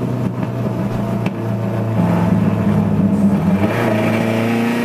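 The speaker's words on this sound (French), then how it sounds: "Ah, ce moteur Gordini, c'est une vraie symphonie, je ne m'en lasserai jamais." A Renault Gordini car engine drones loudly and steadily while driving, its pitch rising slightly as it revs, with no voices over the steady mechanical hum.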